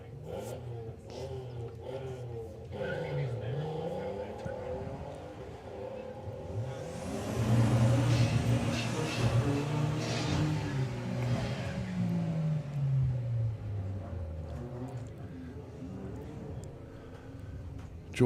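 Audi TT race cars launch down a drag strip, engines revving and climbing in pitch as they accelerate, then fading as they pull away, with a commentator talking over the run.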